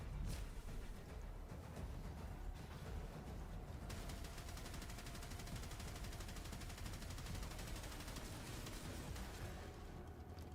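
Rapid gunfire from the Bubonico weapon in the Warframe video game, a dense, sustained burst of shots that runs loud and steady for about ten seconds.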